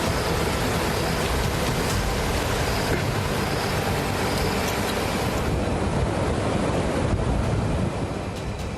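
Rushing floodwater of a swollen river roars continuously and loudly, a dense, unbroken torrent of churning water with wind buffeting the microphone.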